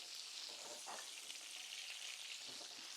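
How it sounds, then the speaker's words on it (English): Shrimp dropped into hot oil in a pan for a crispy shrimp bowl, giving a steady, dense sizzle that fills the whole stretch without pause, close and fairly loud, with faint bursts of bubbling as the pieces settle. "So now we're going to drop a bunch of our shrimp in there"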